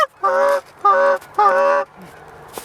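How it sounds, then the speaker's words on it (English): Geese on a field hunt give three loud, close honking calls in a row, each about half a second long and separated by short pauses, followed by quieter shuffling. "There's a lot of birds over here."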